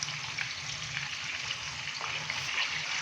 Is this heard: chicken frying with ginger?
yes